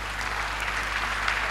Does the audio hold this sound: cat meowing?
no